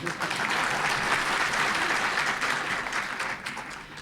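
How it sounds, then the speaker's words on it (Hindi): Audience applause fills a political talk-show studio in a steady, dense wash of clapping that holds for the whole stretch, loud and continuous with no voices on top. "ताली तो बजाने दीजिए"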